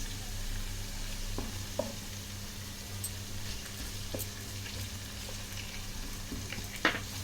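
Curry leaves frying in hot oil for a fish curry, a continuous soft sizzle with occasional sharp pops and faint stirring scrapes, steady and close with no voices.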